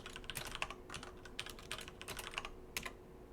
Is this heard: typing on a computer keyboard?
yes